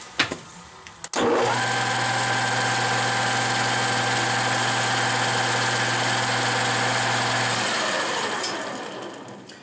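A 13x40 metal lathe's electric motor, its shear pin broken, starts up after a couple of clicks and runs with a steady, close mechanical hum and whine for several seconds before spinning down.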